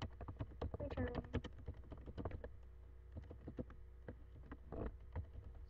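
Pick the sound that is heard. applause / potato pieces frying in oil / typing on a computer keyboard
typing on a computer keyboard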